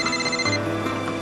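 A telephone ringing tone sounds on an outgoing call, heard briefly as a steady electronic ring for just over a second over a faint background hum.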